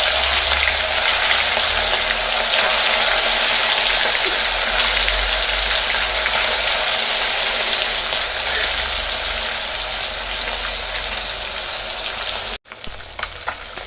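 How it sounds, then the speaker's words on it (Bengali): Fish pieces fry in hot oil in a kadai, giving a loud, dense, continuous sizzle close up that cuts off abruptly near the end before a quieter sizzle resumes. "এবার আমি এক এক করে মাছগুলো সব ভেজে নেব।"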